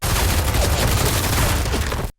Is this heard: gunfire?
yes